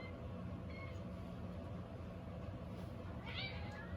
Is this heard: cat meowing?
yes